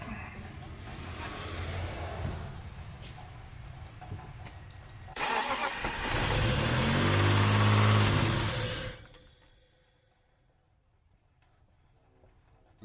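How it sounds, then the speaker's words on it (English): A BMW E36 sedan's engine cranks and catches, running loudly for a few seconds before cutting off, with background noise and faint voices before it. "I'm running the car real quick. Start it."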